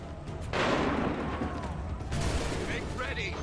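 A musket volley rings out in Assassin's Creed III, a loud burst of massed gunfire followed by a second crackling round of shots and echoing booms.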